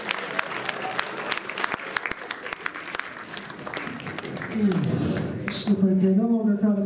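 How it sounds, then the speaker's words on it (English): A crowd of students claps in a high school gathering, sharp dense applause that swells and then gives way to someone speaking at the close. "Let's give them another round of applause."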